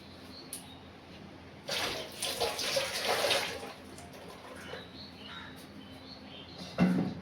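Two cucumbers washed under running tap water in a home kitchen, with a steady splashing burst in the middle of the clip, a softer trickle before and after, and faint birds chirping in the background.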